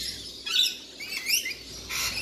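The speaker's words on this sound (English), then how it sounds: "just wanted to show you who's making all that racket this morning. Look at these little rainbow lorikeets." A flock of rainbow lorikeets chatters and screeches outdoors in the morning, producing shrill, overlapping chirps in several bursts, loud and continuous across the moment.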